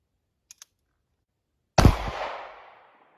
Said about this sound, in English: I'm going to shoot the punch first.